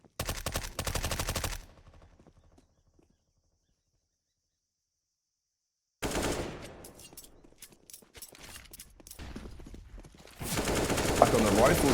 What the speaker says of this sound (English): Hot Dog with the MP5, not normally a weapon you tend to see. He actually used it in Vertigo once, and he's gonna go and get 2 kills with it.